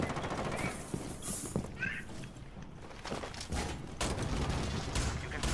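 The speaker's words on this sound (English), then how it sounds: "Oh, they're shooting." Gunfire in the tactical shooter game Rainbow Six Siege: dense bursts of automatic and single shots rattle throughout, some nearer and louder, mixed with footsteps and mechanical clatter, while voices talk over the action.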